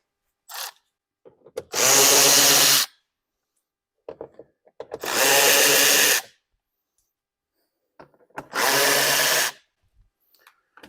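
A power tool removes bolts behind the fender of a BMW X5 during a windshield washer tank replacement, three loud, close bursts of roughly a second each, separated by short pauses and faint handling noises.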